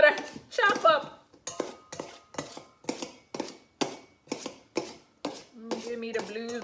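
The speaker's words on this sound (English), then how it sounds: "Come on, butter, chop up." Hard butter being chopped by hand into flour for hard dough bread, a steady run of about a dozen sharp knife or cutter strikes against a bowl or board, close and crisp, with someone talking briefly at the start and end.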